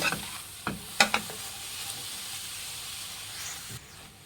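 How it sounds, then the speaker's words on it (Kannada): Legumes and greens for a kire soppu palya fry and get stirred in a pan, with a steady sizzling hiss and a few sharp scrapes of a spoon near the start, the sizzle carrying on alone and easing off at the end. "ಫ್ರೆಂಡ್ಸ್ ಕಾಳು ಚೆನ್ನಾಗಿ ಫ್ರೈ ಮಾಡಿದಷ್ಟು ಸೊಪ್ಪು ಮತ್ತು ಕಾಳು ತುಂಬ ಟೇಸ್ಟಾಗಿರುತ್ತೆ"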